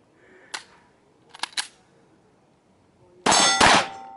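Pistol rounds from a Canik TP9 SFx striking steel targets at a night steel-shooting match ring out as sharp metallic clangs, one, then a quick pair, then a loud ringing cluster near the end.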